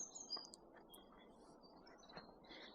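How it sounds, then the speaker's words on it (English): Faint high chirps and short birdsong phrases drift over a soft outdoor hiss in a big field, scattered and distant, with no one speaking. "you can hear the birds singing as well."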